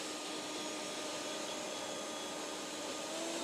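A Stihl BGA250 battery leaf blower runs at full power, not boost, with a steady, broadband roar and a faint whine on top, constant and close throughout with no pauses.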